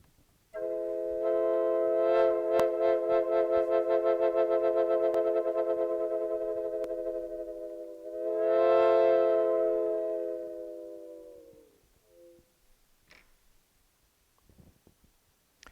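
A reedy, bellows-driven portative organ holds a steady chord with a pulsing vibrato, swells once more, then fades out, leaving faint clicks.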